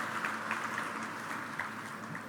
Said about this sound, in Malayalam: so we should give A big clap to her